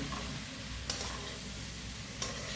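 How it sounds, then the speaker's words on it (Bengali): Puffed rice being stirred together with fried vegetables in a pan, a soft continuous scraping and faint sizzle with two brief louder clinks of the spoon against the pan. "এবার এটাকে ভালো করে মিশিয়ে দিতে হবে"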